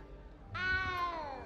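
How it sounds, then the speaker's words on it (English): A small cat in Hogwarts Legacy gives a single clear, drawn-out meow, moderately close against quiet game ambience. "You don't need to be frightened, little cat."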